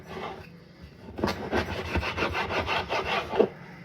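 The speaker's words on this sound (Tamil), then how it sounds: "சின்ன கத்தியாலே வெட்டுறேன் நான்." A small knife cuts through something firm in short, rhythmic scraping strokes. After a quiet start, a rapid run of close rasping cuts follows.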